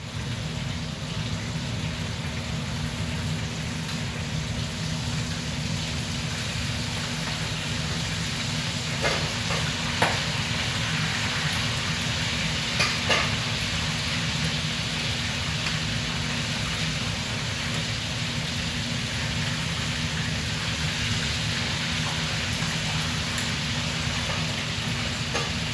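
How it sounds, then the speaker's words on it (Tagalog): Fish frying in a pan in a home kitchen, a steady, dense sizzle and crackle that holds at an even level throughout, with occasional brief pops and no talking. "Ayan, nakaprito na po ako doon."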